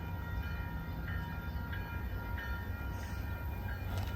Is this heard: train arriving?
yes